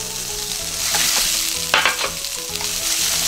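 Bean sprouts tossed with garlic in a hot pan for liver and garlic chives stir-fry: a loud, continuous sizzle with scraping stir strokes and bursts of hissing, close and unbroken throughout.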